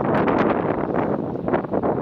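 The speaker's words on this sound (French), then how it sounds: "Là, je peux me concentrer sur le vent. Il y a du vent." Wind blows steadily outdoors beside water with small wavelets, a constant dense rushing that buffets the microphone throughout.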